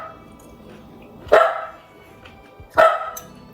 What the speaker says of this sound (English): My dog has something to say.